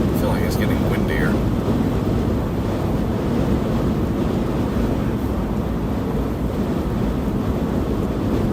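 Strong, steady wind roars and buffets the microphone throughout while storm chasing a tornado threat near the Missouri–Illinois border, a continuous loud low rumble with brief fainter voices early on.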